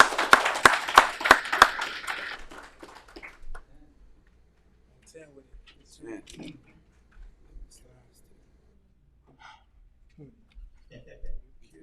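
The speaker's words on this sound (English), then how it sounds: "A round of applause for Mr. Rue Johnson." Brief applause at a spring student presentation session, a short burst of close, rhythmic claps in the first couple of seconds that fades into quiet rustles and faint murmurs.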